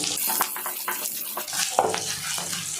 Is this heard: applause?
no